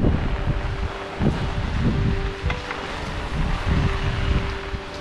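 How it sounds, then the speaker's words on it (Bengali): Strong, gusty wind blows outdoors near rooftop solar panels during stormy monsoon weather, with continuous loud rushing and buffeting rumble and no voices. "খুব ঝোড়ো হাওয়া দিচ্ছে।"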